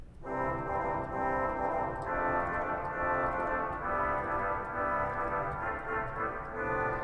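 A pipe organ in a large church sounds its Waldhorn 16-foot reed stop, a continuous buzzy, brassy chord held loud and steady with slight swells, filling the room with reverberant resonance.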